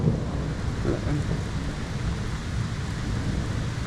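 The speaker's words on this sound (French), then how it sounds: "Oh là là, c'est impressionnant cet orage." A violent thunderstorm over Liège, Belgium pours heavy rain in a constant, dense roar, with low rumbling beneath and no clear single thunderclap standing out.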